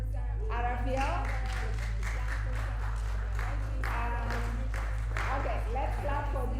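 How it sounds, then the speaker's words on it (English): An audience at a men's mental health and wellness event claps for high school team members, with steady applause under a person talking and a constant low electrical hum. "let's clap for these high school team members because they did great"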